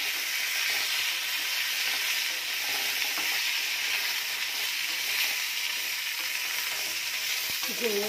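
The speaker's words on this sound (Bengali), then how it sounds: "এবার আমার আলুগুলো ভাজা হয়ে গেছে, এবার আমি ঝিঙেটাকে দিয়ে দেবো।" Ridge gourd going into hot oil in a pan after potatoes were fried, giving a loud, continuous sizzle with some stirring noise throughout.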